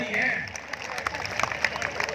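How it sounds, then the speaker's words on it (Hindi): Audience clapping at a Hindi comedy poetry gathering (hasya kavi sammelan) in Kotdwar, Uttarakhand: scattered, moderate claps that swell briefly at the start, then continue as a loose patter with a voice speaking over them. "तालियां थोड़ी है"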